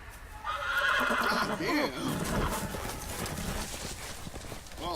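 A horse in the Game of Thrones Telltale video game whinnies loudly up close while hooves clip-clop beneath, followed by snorting and further hoofbeats, with someone briefly talking over it.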